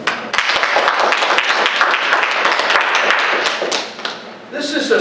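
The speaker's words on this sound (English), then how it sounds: "please give a round of applause to Mr." Audience at a Wyrd Con storytelling event applauds storyteller Bill Howard, lively close clapping with distinct sharp hand strikes and a few thumps, dying away near the end as a voice begins speaking.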